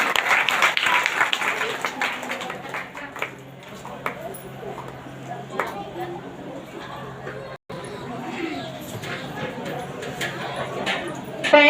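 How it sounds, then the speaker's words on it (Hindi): A congregation at a ministry testimony gathering applauds, with crowd clapping and chatter mixing together, loudest at the start and then continuing at a moderate level with voices talking over it. "केवल परमेश्वर को जोरदार तालियों के साथ धन्यवाद देती है।"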